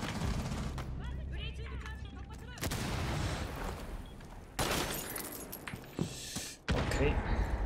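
Bursts of gunfire crackle and boom in a game, with sharp shot onsets scattered across the clip and a voice talking at the start.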